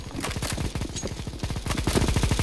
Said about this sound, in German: Ich hab diese eine Waffe, die 45 Sekunden lang schießt.